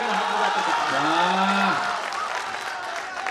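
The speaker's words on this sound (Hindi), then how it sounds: "तालियां बजा कर एक" Audience clapping at a Hindi poetry gathering, a broad, even patter of many hands running steadily through the clip while a voice speaks over it.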